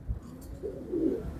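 Pigeons cooing at a fancier's loft in Karachi, a soft low murmur of a few overlapping coos, fairly close and moderately quiet, with no talk.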